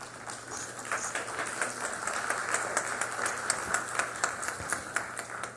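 Steady applause from an audience at a judicial conference, many hands clapping continuously at moderate distance, a broad even patter with no voices over it.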